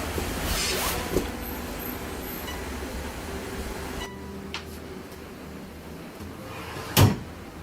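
A small drawer is worked with a muffled scrape, followed a few seconds later by a single sharp knock as it shuts, nearby in a quiet room.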